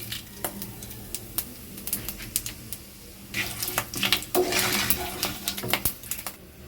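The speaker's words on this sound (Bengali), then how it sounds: "ফোড়নটা নেড়েচেড়ে একটু ভেজে নিয়েছি" Half a spoon of panch phoron and a bay leaf sizzling in mustard oil in a kadai, a soft crackling hiss broken by scraping stirs and clinks of the utensil, growing busier toward the end.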